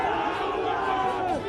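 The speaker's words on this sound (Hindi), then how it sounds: "भीड़ का एक पूरा हुजूम नारेबाजी करते हुए आगे बढ़ रहा है।" Crowd chanting slogans while marching forward during a street protest, a dense mass of shouting voices that stays loud and continuous.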